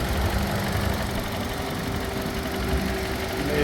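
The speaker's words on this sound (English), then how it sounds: "it looks like it's still powered by the inline 4 engine" A Toyota RAV4 Adventure off-road edition's inline four-cylinder engine idles steadily, with a low, continuous rumble and faint mechanical vibration throughout, heard up close with no talking.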